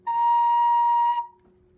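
A single sustained recorder note fingered with holes 1 and 3 and the thumb hole, steady and clear for just over a second, then cut off, alone without talk.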